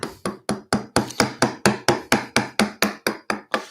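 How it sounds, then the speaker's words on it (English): A wooden mallet strikes a chisel cutting into hard pear wood during a carving, about fifteen sharp, close knocks at a steady rhythm of roughly four per second, with no talking. "So I'm going back to my mallet."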